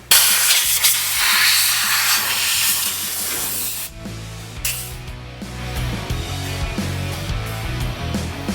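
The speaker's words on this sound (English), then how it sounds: "Not a bad idea to blow the gunk out of here too first." Compressed air blasts gunk out of the engine bay of a 2006 Dodge Magnum SRT8, a loud, continuous hiss that runs the full length with no talk, easing slightly partway through.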